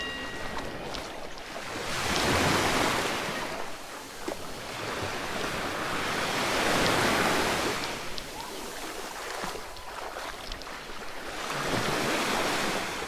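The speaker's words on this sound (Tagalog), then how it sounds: "Malakas ang alon ngayon." Strong sea waves surge and break in slow swells at Papaya Island Cove in Nasugbu, Batangas, each crash building and fading over a few seconds under steady wind buffeting the microphone, with no talking.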